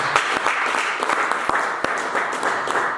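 A church congregation claps and applauds in acclaim of Jesus, a dense, steady wash of many hands with scattered sharper claps standing out, loud and continuous throughout.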